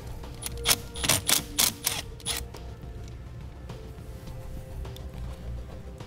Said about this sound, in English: Now we'll use a 10 millimeter socket to remove this nut here.